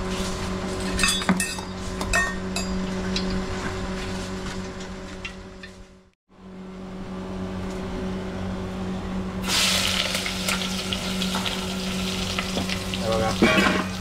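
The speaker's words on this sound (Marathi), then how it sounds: "जबरदस्त फोडणी बसली आहे" Bay leaf, onion and home-village curry leaves hitting hot oil for a tempering in a home kitchen, a loud steady sizzle with occasional utensil clinks, dropping out briefly midway before resuming and brightening toward the end.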